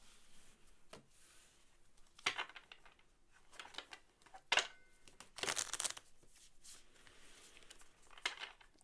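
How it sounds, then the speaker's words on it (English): Tarot cards being shuffled by hand in several irregular bursts of crisp riffling and rustling, close and clear with quiet pauses between, and no talking. "Give it a couple good shuffles."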